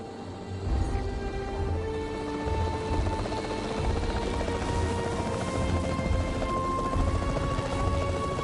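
The capture team helicopter in Jurassic World Evolution 3 drones steadily with a thick rotor roar and whining engine tones, loud and continuous throughout with no talk.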